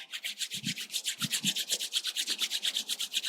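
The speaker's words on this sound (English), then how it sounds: "Rub the palms." Palms of the hands rubbed briskly together in a yoga session, a fast, even run of about two dozen close swishing strokes with faint thumps near the start and no talking.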